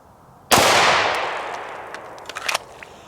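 A single sharp gunshot from a handgun loaded with Remington ammunition cracks close and loud, then decays into a long reverberant tail with a few faint clicks and handling noises afterward.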